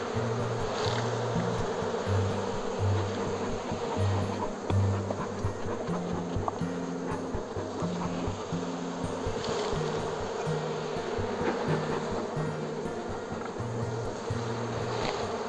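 Honeybees swarm around a beehive being readied for moving, a dense, continuous buzzing drone that stays loud and close the whole time, with no talking.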